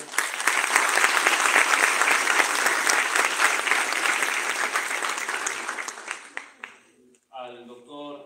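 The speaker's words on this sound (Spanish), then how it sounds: "un fuerte aplauso para ella" Sustained audience applause at the opening ceremony of a 13th congress, dense and loud for about six seconds, then tapering off into quieter sounds near the end.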